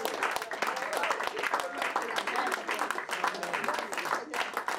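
A church congregation applauds and cheers in a continuous, dense wash of clapping that fills the room, with voices mixed in under the steady applause throughout.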